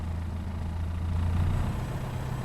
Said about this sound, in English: Bring the power back to a nice smooth idle. Look at that, beautiful. About 800 RPM.